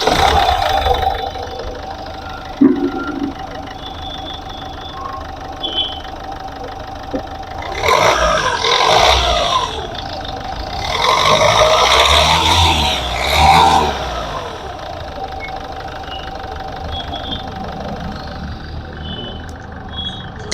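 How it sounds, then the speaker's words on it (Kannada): A 2012 Ford Figo's Duratec diesel engine cranks and catches, then settles into a steady, slightly knocking diesel idle, with a louder stretch of noise partway through before it returns to an even idle. "ಡ್ಯೂರಾಟೆಕ್ ಇಂಜಿನ್ ಬರೋದಿದು, ಡೀಸೆಲ್ ಇಂಜಿನ್ನು"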